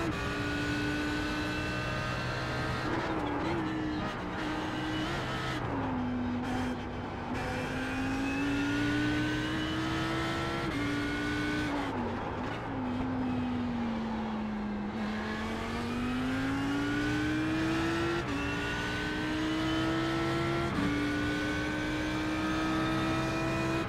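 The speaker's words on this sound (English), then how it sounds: "I really like this Audi R8 though." An Audi R8 race car engine drones through a session in the iRacing sim, holding a steady mid-pitched note that climbs and falls with shifts and throttle changes.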